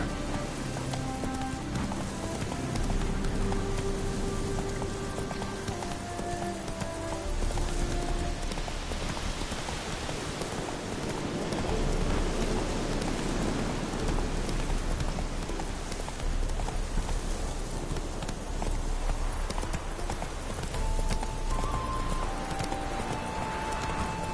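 Roach the horse's hooves clip-clop steadily on ground during rain in The Witcher 3, a continuous even gait heard close under a constant wash of rainfall and game background music, with no talking.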